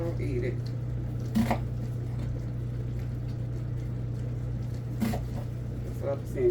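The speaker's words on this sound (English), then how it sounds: "So, this, chopping up my onions." Onions are chopped with a knife on a board during home cooking, heard as a few sparse, sharp knife strikes over a steady low background hum.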